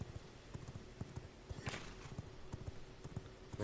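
Horse hooves clip-clop steadily at a quick walking pace in the V Rising video game, a run of close, fairly soft hoof strikes over a low ambient background.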